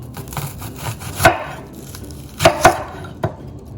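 A knife chops lettuce and onion on a wooden board while a smashed burger is prepared. Several sharp, close knocks land at an irregular pace, with a few clustered together, and nobody talks.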